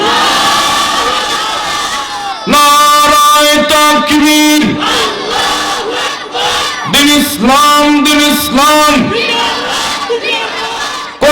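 A large crowd roars a takbir response at a religious gathering: loud, massed shouts come in two long rhythmic bursts of repeated chanting, separated by a brief lull.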